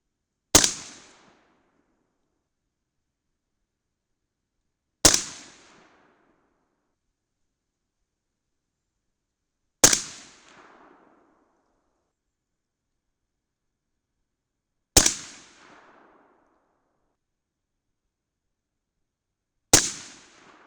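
.223 Remington rifle firing Hornady 73-grain ELD loads at a range, five sharp, loud single shots spaced about five seconds apart, each with a short decaying echo and silence between.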